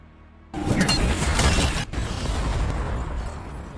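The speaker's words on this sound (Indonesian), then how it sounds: "Ia membakar sebagian area arena, memicu ledakan besar yang membuat Johan semakin murka." A sudden loud boom erupts after a brief quiet, followed by a sustained roaring rumble with crackling debris, close and powerful.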